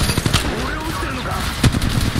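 Automatic weapon fire in Apex Legends Mobile crackles in short rapid bursts, with a louder hit near the end, while game voices talk over the shooting.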